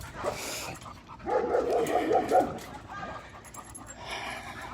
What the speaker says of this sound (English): there's a whole bunch of dogs on the side of the road.